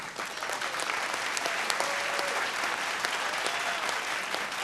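Audience applause at a televised vocal competition show honoring the vocal coach and band, a sustained wash of many hands clapping at even loudness with no break.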